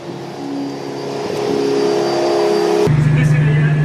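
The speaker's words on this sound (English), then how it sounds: "this area is where we house our 4 CHP gas engines" Jenbacher 420 CHP gas engines run inside a power plant engine hall, giving a loud, steady mechanical drone with a deep low hum that rises in intensity toward the end.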